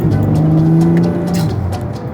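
BMW M3 Touring wagon accelerating hard on a rally, heard from inside the cabin: a loud, steady engine roar climbing in pitch with tyre noise, close and continuous with no talking.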